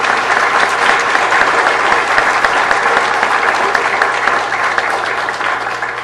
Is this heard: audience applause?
yes